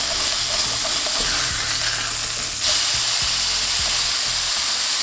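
Beef patties for Big Macs sear loudly in a hot pan, a dense continuous sizzle with scraping and a few knocks of a spatula, with no talk.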